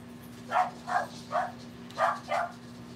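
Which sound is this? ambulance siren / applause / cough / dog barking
dog barking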